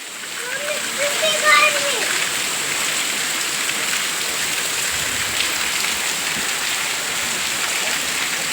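A heavy village downpour keeps falling without letup, a thick continuous wash of rain and splatter close by, with someone talking over it early on and a brief whistling tone near the start.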